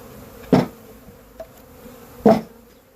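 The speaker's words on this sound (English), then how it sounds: "inside this box is full of bees" A swarm of honey bees buzzes inside a box, two short loud buzzing bursts standing out over a faint humming background, close up with no talk.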